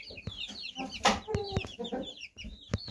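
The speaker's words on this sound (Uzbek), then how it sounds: "Endi xo'rozlarni ko'rsataman hozir." Roosters and hens on a farm cluck and call in short, close, repeated bursts, several birds overlapping, with no talking.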